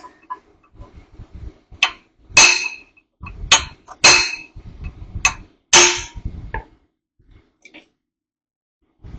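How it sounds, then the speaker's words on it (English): Several sharp metallic strikes of a hammer on a punch against a washer ring out, single and doubled hits spaced irregularly, close and loud, with quiet gaps between. "I'm going to get a hammer and a punch and give it a smack to help put a little bend in it"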